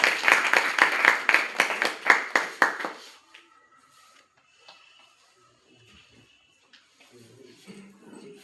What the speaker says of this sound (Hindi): मैम के लिए जोरदार तालियां।